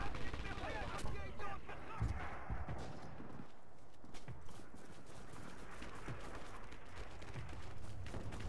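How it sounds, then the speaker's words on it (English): Artillery shells land in a Red Orchestra 2 battle for a bridge in Druzhina, giving several heavy thuds and booms amid a constant wash of battlefield noise, with voices talking over it. "they're dropping artillery now, guys"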